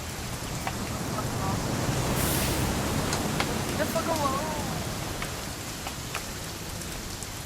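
Steady video game rain pattering continuously on a surface, an even wash of drops with a few faint tonal chirps in the background.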